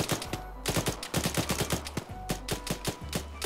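Rapid bursts of video-game gunfire, loud and close, fired in quick repeated volleys with brief gaps between strings of shots.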